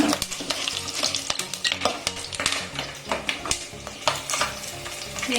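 Biryani masala spices sizzle and fry in a hot pot while a utensil stirs and scrapes against the metal, a close, busy crackle with frequent clinks throughout.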